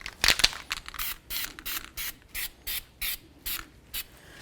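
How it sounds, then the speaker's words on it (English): Short bursts of aerosol copper anti-seize spray hiss repeatedly onto a Jeep Liberty wheel hub in a steady rhythm, about eight quick pulses, close by, with faint mechanical clicks between them. "We're just going to spray this hub with some copper never seize."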